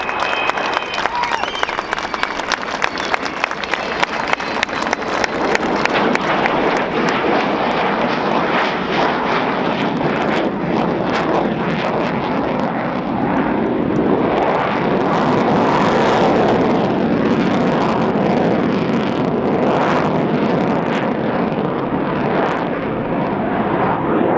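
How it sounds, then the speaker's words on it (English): An Avro Vulcan XH558 jet bomber roars past overhead at an air show, its engines a loud, sustained rumbling howl that swells and fades while a crowd applauds in the background. "So on her final pass now, here comes the magnificent, the wonderful, your aeroplane, the Avro Vulcan."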